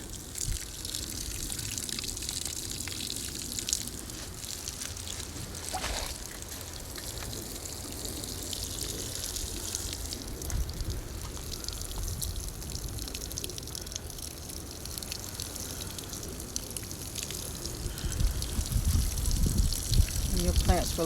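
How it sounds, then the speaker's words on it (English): Water poured onto strawberry plants in a garden bed, a steady soft splashing trickle that runs on for many seconds and grows slightly stronger toward the end, with talking over it. "And now I'm going to follow it with some water."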